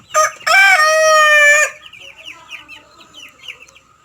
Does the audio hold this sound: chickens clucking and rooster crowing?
yes